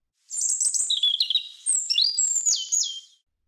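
A small bird chirps and tweets in two close, rapid bursts of high, thin notes against silence.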